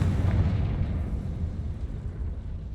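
Confringo fire spell blast in the video game Hogwarts Legacy, a single loud close explosion with a rumbling boom that slowly decays over a few seconds.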